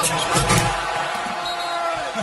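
Basketball arena crowd roaring and cheering after a LeBron James dunk, a steady loud wash of massed voices with a few brief thumps.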